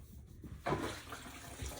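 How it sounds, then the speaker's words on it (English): Water runs from a tap to rinse a lemon-scented mop. A steady gush starts suddenly partway through and keeps going at moderate loudness, and no voices are heard. "So let's rinse our mop out."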